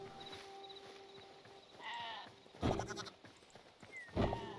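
A small sheep bleats in the Hytale video game, short wavering calls that rise twice over a quiet game ambience, moderately near, with faint background noises between them.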